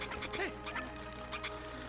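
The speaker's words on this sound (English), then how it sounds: "I know, with annoying clucks of Uku, like, it's just lovely, isn't it?" Repeated clucking calls from Uku, a chicken-like character in the video game Zelda: Twilight Princess HD, rising over steady background game music and ambience in short bursts.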